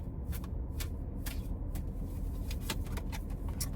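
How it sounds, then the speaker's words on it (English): Tarot cards are shuffled by hand in quick, crisp riffling bursts over a low steady background rumble. "I'm gonna shuffle one more time."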